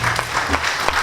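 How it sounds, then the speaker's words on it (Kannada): Audience applause after a Kannada drama performance, a dense, steady wash of many hands clapping at close range for about a second. "ನಿಮ್ಮ ಚಪ್ಪಾಳೆ ಮೂಲಕ ಪ್ರೀತಿಯನ್ನು ತೋರಿಸಿದ್ವಿ"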